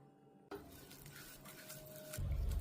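Spoon stirring ginger garlic paste masala in coconut oil in a pan for fish fry: soft scraping and clinking of utensil against pan after a sudden start, faint sizzle underneath, growing to a louder rumble near the end, no talk.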